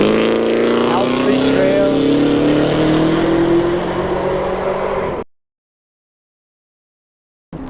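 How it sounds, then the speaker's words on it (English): A loud car roars past on Horton Street, its engine note rising and sweeping for about five seconds before cutting to sudden silence. "there's always some dude in a car making a lot of noise."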